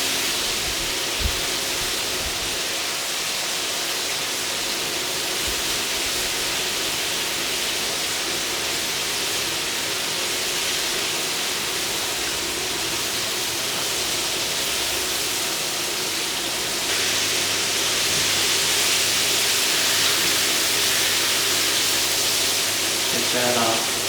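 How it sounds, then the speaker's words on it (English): Chicken pieces deep-fry in hot oil, a dense, continuous hissing bubble and sizzle that stays loud and even throughout, growing slightly brighter toward the end. "You can hear all that bubbly noise from the oil."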